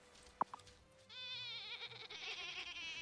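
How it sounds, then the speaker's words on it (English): A sheep bleats in the farming game Wylde Flowers, a couple of soft clicks followed by a long wavering bleat that holds close and clear to the end, no voices. "with one more sheep"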